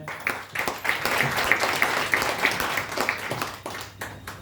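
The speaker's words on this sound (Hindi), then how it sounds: "तो इसके लिए जोरदार तालियां हो जाए" An audience at a product presentation claps for several seconds, a moderate, uneven patter of hands that rises and falls before thinning out toward the end.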